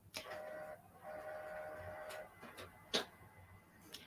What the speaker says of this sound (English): my sublimation printer heard me talking about it, so it decided to talk back